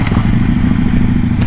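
A 2015 Harley-Davidson Low Rider idles loud and close after starting, with a steady, throbbing low rumble and no voices.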